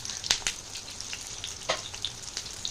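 Eggplant frying in hot oil with salt, a steady close crackling sizzle dotted with sharp spitting pops at irregular intervals, no voices.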